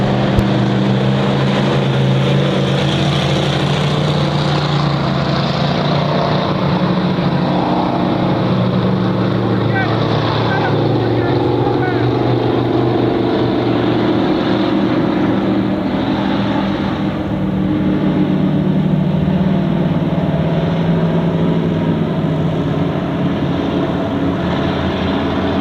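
Warrior South race cars roar steadily through a six-lap heat race at Honor Speedway, a loud continuous engine drone heard from a distance, with no pauses.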